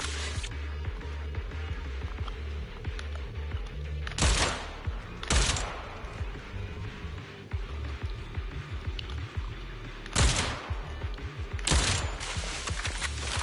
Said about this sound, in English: Wish he would stop firing at us.